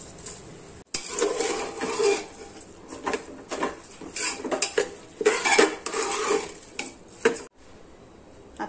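Uncooked rice poured into a pot with whole masoor lentils and stirred, giving a run of scraping, rattling utensil clatter with irregular bursts, fairly close and steady, no talking.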